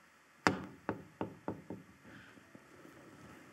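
Door being shut, heard as a sharp wooden knock followed by several quieter knocks and rattles fading out, fairly close and alone without speech.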